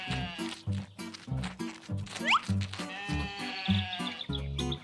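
Sheep bleat repeatedly on a farm, a series of close, wavering calls in steady succession, with a brief squeaky sound partway through.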